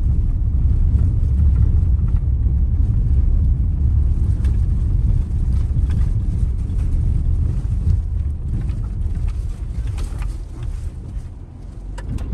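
A turbocharged Oshan X7 SUV climbs a sandy uphill patch at Booni, its engine holding a steady, loud, low rumble throughout, with wind buffeting the microphone and no talking.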